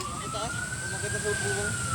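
A fire truck siren wails steadily at a distance during a house fire, a single rising and sustained tone over background noise and faint voices.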